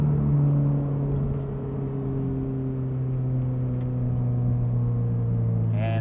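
Steady, droning exhaust note of a Toyota GR86 fitted with a titanium single-exit catback, heard from inside the car with windows up: a smooth, constant low hum with tonal harmonics and no talking.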